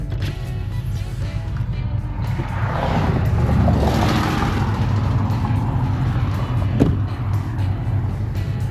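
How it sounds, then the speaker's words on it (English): Road traffic passing by a roadside sign, a continuous loud rushing roar of vehicles that swells in the middle, with a brief sharp knock near the end. "A lot of traffic, honestly."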